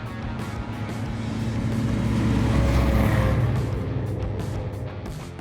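A Tinger ATV engine drones steadily while the vehicle drives off-road toward a swamp, a continuous low rumble that swells slightly in the middle and holds for several seconds without talk.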